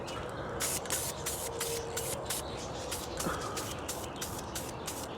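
Aerosol or spray gun hissing steadily while light coats of paint go onto King Fiber rear valences for a 2014-2016 Scion tC / Toyota Zelas, with short pulsed bursts over a continuous close hiss, no speech.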